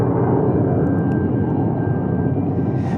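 Air National Guard F-16 jet taking off on afterburner at Tucson International Airport, a continuous deep roar filling the whole clip, steady and loud from a distance.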